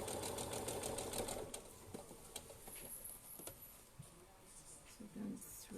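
A sewing machine runs in quick steady bursts, stitching an elastic channel on a fabric bowl cover, its rapid patter slowing and pausing as the fabric is guided round, with a voice talking over parts of it.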